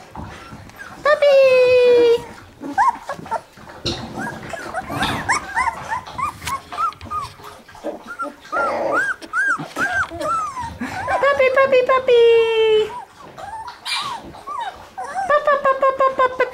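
A puppy whimpers and yelps in high, wavering cries while a person talks and calls nearby, with the whines returning in bursts.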